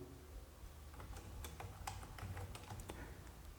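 Keys clack on a computer keyboard while name and address details are entered into accounting software, an irregular run of quick taps over a soft steady background, with no talking.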